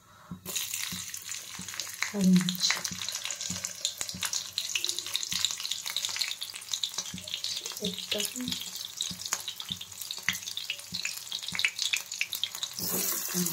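Cumin seeds frying in hot oil in a home kitchen while sabudana khichdi is being cooked, giving a steady close sizzle throughout with scattered stirring clicks and a faint watery hiss, with no talking.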